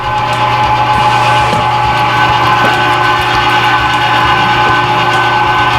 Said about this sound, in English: I'm gonna alternate pieces of venison and pork into the Weston Pro Series electric grinder